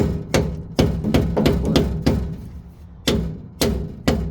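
Repeated sharp hammer blows on metal on a 1948 Ford's front end, about nine hits in uneven rhythm with brief pauses, ringing briefly after each strike, close and loud.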